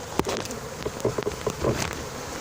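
A swarm of honeybees buzzes inside a cardboard box being closed up as a new hive after removal from behind a window shutter, a close, dense humming with scattered louder wingbeat bursts and light tapping.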